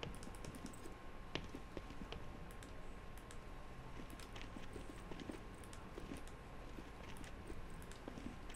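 Keyboards in The Walking Dead: Saints & Sinners video game give off scattered light clicks and taps, faint and irregular over a steady hum.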